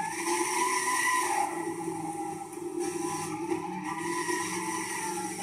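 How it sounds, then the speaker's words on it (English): A supercharged 1967 Chevrolet El Camino 396 SS roars at high revs in Gran Turismo 6, the engine holding a loud, sustained, tonal howl with slight pitch shifts throughout. "That supercharger kicks in."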